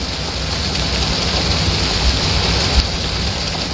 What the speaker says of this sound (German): Oh, ist das laut, der Regen.